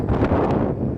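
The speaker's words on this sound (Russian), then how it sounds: "И очень ветрено." Strong wind buffets the microphone on a snowy bridge during a snowstorm, a steady low roaring gust that fills the whole short moment without any voices.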